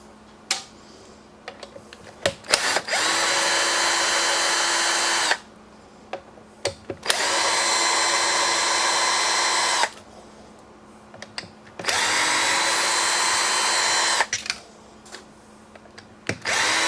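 Power drill backing screws out of an RC car's top plate, running in three sustained bursts of a few seconds each, separated by short pauses with small clicks and handling noises, loud and close.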